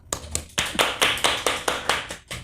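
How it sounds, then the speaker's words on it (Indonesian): A small group claps at an Indonesian gathering to welcome a guest, a short burst of about nine sharp, fairly close hand claps in an uneven rhythm with no voices. "Oke, beri aplaus dong."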